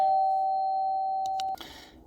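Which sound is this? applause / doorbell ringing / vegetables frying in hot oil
doorbell ringing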